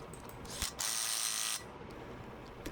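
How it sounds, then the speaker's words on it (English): A ratchet tightens car wheel lug nuts: a short, faint mechanical burst of clicking and whirring, framed by a couple of brief knocks, in a quiet workshop. "when I tighten up my lug nuts, I go in a zigzag pattern until I've gotten them all tightened"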